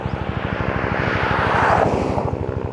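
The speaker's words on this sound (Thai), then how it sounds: "มีฮอบินมาพอดีครับผม" A helicopter flies overhead beside a road, its blades beating in a fast, even thumping rhythm under a loud rushing whoosh that peaks as it passes close.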